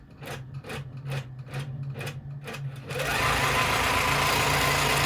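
Embroidery machine stitching out the spine area of a notebook cover, starting with a slow, evenly spaced run of needle thumps that then speeds into a dense, continuous buzzing hum, close and steady.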